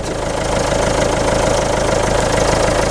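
A Citroën C2 HDi diesel engine idles after starting, a loud, steady, rhythmic clatter with a constant low throb and no voices.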